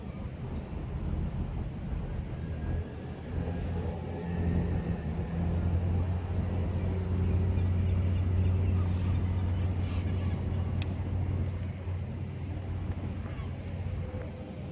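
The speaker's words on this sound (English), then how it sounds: "now arriving in is 1 Lima 36, the 1607 Southeastern high-speed service from St Pancras International" A Southeastern high-speed train, the service from St Pancras International, pulls into Sittingbourne station with a steady low rumble that swells and fades, plus faint wind noise and no talk.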